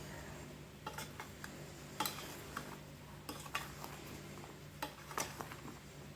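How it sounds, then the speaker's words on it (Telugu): Mango pickle pieces are stirred with spice powder and sesame oil in a bowl, giving soft scraping and scattered, irregular clinks of a spoon against the vessel, fairly quiet with no talk. "ఇప్పుడు బాగా మిక్స్ చేసేసుకోవాలి"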